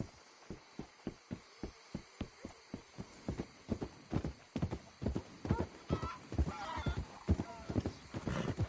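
Horse hooves in the PS4 game Red Dead Redemption 2 clip-clop in a steady, rhythmic trot close by, the beats growing busier and denser toward the end over a faint hum.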